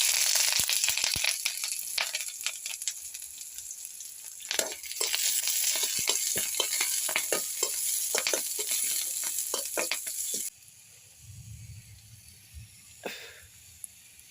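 Dried red chilies fry in one spoon of hot coconut oil for a chili curry, making a loud, steady sizzle with stirring scrapes that drops away abruptly to a faint hiss.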